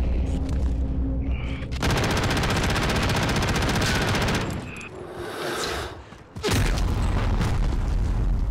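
Sustained automatic gunfire and explosions from Call of Duty Warzone gameplay, loud and dense throughout, with a brief drop to a quieter stretch before another loud burst of rapid shots.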